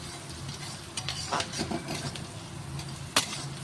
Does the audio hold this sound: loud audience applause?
no